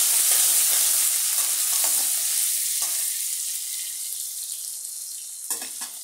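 Potato pieces seasoned with salt and turmeric fry in a pan with a loud, continuous sizzle that gradually softens, broken by a few scraping stirs of a utensil.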